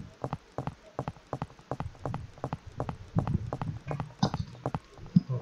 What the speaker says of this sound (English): you can hear their footstep sound